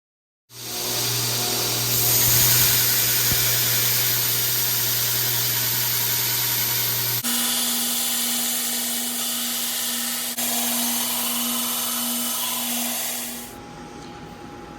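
Steel combat tanto knife blade held against a running grinder, a steady loud whir with bright hiss that shifts pitch twice as pressure changes, then spins down and stops at the end.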